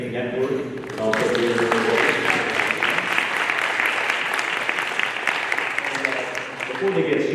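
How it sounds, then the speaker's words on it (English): Sustained round of applause at a council candidates' forum, a dense crowd clapping steadily and loudly for about seven seconds, with a voice speaking briefly over it at the start and end. "we gave another round of applause to the Westside Interfaith Network"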